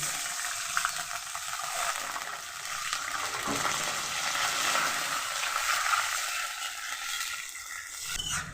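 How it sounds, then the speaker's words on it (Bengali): Half a cup of water hits hot tempering oil for white dhokla. It sets off a loud, rushing sizzle that swells, stays through most of the clip, then cuts off near the end. "হাফ কাপের মতো জল দিয়ে দিচ্ছি।"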